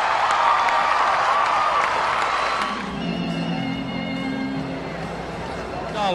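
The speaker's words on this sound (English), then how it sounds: "you're on your feet, you've got your hands clapping, and you're yelling loud" A crowd at a horse show claps and cheers loudly in the first half, then the applause thins and fades into murmuring and background voices in the arena.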